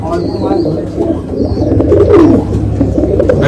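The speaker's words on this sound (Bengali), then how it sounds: "সাদা পায়রা, ফুলসিয়া পায়রা, পিঠে লাল পায়রা আছে সব" Domestic pigeons, including white birds and ones with red backs, coo in a steady, soft, throaty rumble close by, with faint murmuring in the background.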